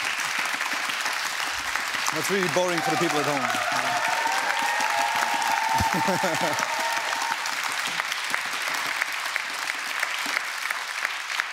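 A studio audience at a talk show keeps up steady, dense applause throughout, with a voice speaking briefly over the clapping.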